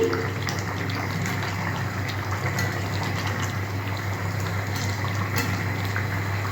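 Phului fish curry with green chillies boils in a pan, a steady close bubbling hiss over a low constant hum, with no talking.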